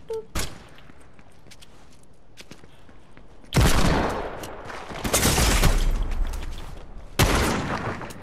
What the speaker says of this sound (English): Oh, you're using shotguns now.